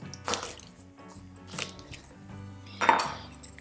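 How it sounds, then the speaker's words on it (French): A kitchen knife presses down on garlic cloves on a board, giving three separate crushing thuds with a faint crackle, spaced about a second apart in a quiet room. "On dit de l'écraser avec un couteau."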